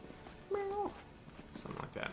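A small cat in the fantasy role-playing video game Pathfinder: Kingmaker gives a single short, tonal meow, moderately loud against quiet background sound, with faint talk afterward.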